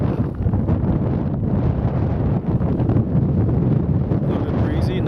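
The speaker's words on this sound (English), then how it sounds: "A little bit breezy, nice and cool." Strong, steady wind buffets the microphone on a mountain summit at 9,600 feet along Utah's Scenic Byway 12, a loud, continuous low roar with no pauses across the whole stretch.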